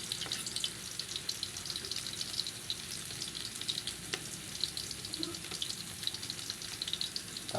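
Ginger sautéing in a pan for adidas adobo sa gata (chicken feet in coconut milk), giving a steady, close hiss of frying with occasional crackles and faint clinks, no voices.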